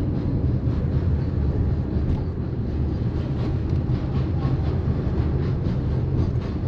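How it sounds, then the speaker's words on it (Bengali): A freight train rolls past on the line, a steady low rumble with rhythmic clacking of wagons over the rails, fairly near and continuous, with no voices. "ট্রেনটা যাচ্ছে দেখুন,"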